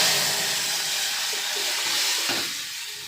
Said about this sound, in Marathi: तर आता मी याच्यामध्ये फोडणी टाकणार आहे।